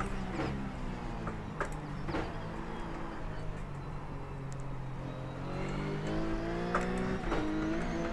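A RUF C Spec race car in iRacing keeps up a loud, continuous engine drone, with the pitch rising and falling through gear changes and faint tire scrub underneath, and no talking.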